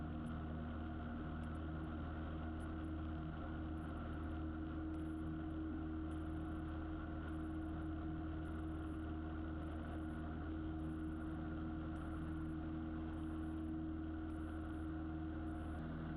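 A small Cessna airplane's engine drones steadily in flight just after takeoff, a loud, unbroken hum that fills the cabin without pause and with no talking.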